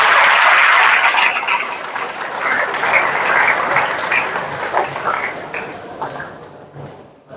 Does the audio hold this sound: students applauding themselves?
yes